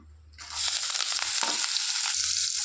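Onion, green chilli and curry leaves drop into hot oil with spices for a meal maker gravy, a sudden loud burst of sizzling that stays strong, with stirring scrapes under it.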